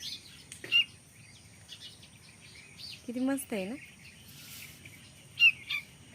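A house sparrow chick chirps from its nest in a few short, bright bursts, and someone speaks briefly in a quiet room.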